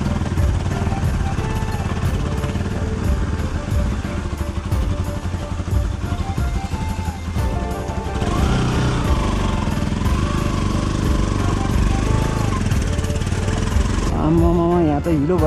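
Bajaj Pulsar NS200 motorcycle ridden on a rough, muddy off-road mountain track in Myagdi, engine chugging and revving steadily, with a higher rising rev near the end, while a rider talks over it.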